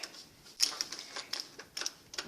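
Light metallic clicks and ticks of a flathead screwdriver turning a door lock, a handful of small close taps spaced irregularly over a quiet background.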